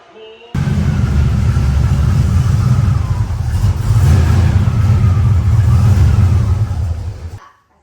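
A ten-year-old Honda car drives up onto a newly installed car hoist, its engine rumbling loud and close with a steady rev that swells midway and then cuts off abruptly.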